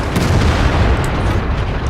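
Heavy tank cannon fire from a tier 9 tank destroyer in World of Tanks, a dense, loud, continuous rumble of booming blasts and low battle noise with no clear gaps.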